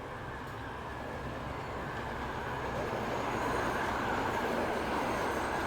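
Freight trains in the Transport Fever 2 video game rumble continuously, a dense, steady rolling roar that swells slightly louder over several seconds, with no voices.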